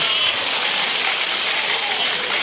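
Dense, steady clapping from a crowd at the Pathsala Raas Mahotsav festival in Assam fills the whole moment, loud and unbroken, with no voices standing out.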